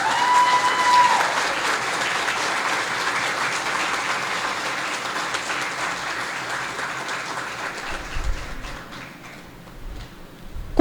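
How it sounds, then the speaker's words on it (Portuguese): Audience applause at a book launch in São Pedro do Ivaí, Brazil, with dense, sustained clapping that gradually thins and fades near the end. "Recebamos com os aplausos que ele merece."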